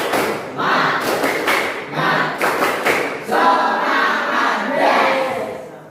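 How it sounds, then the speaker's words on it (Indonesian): Schoolchildren clap in rhythm and chant together in the tepuk semangat routine. Bursts of group clapping alternate with loud shouted chanting from the crowd of young voices. "Nanti kita bersama-sama tepuk semangat ya, anak-anak semua ya."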